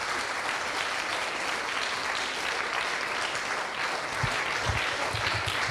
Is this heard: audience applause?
yes